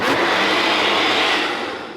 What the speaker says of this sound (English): We're going to put this on the blender, and we're just going to do pulse.